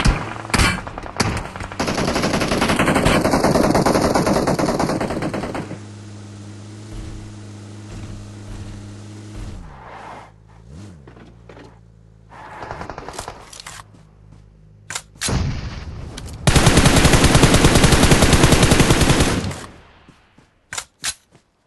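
Bursts of automatic gunfire in a vehicle combat video game, loud rapid volleys at the start and again near the end, with quieter engine rumble and scattered shots between.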